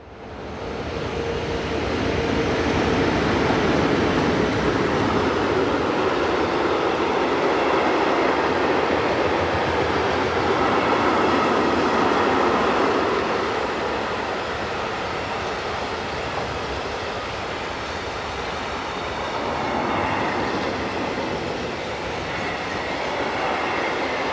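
Freight train from Chiasso to Mannheim on the Gotthard south ramp in Switzerland, hauled by locomotives 11384, 287 and 174, passing with a loud, sustained rumble and wheel noise for over twenty seconds before easing slightly.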